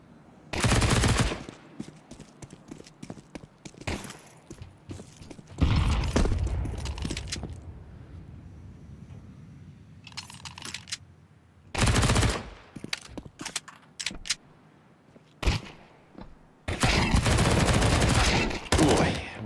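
Glock pistol fire in a Counter-Strike match, heard as several loud, sharp bursts of rapid shots separated by quieter gaps, with faint background commentary voices.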